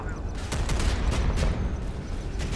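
Rapid volleys of heavy warship cannon fire in the video game Modern Warships boom in quick succession, dense and loud, with a constant rumbling backdrop.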